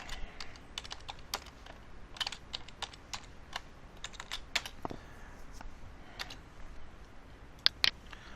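Rapid, irregular clatter of typing on a computer keyboard, close and fairly quiet, with a few louder key strikes and no talk.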